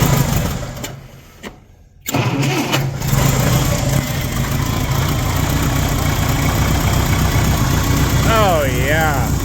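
A farm machine's engine, left unplugged, cranks with a few uneven clicks and turns before catching, then settles into a steady idle close by.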